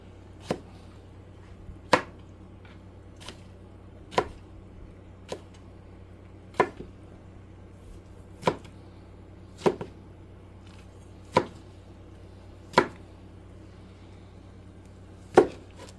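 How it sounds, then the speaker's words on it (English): A knife chops vegetables on a cutting board for bistek ranchero, with about a dozen sharp, evenly spaced single chops over a quiet background, close and distinct, no talking. "So we're going to cut this up like this."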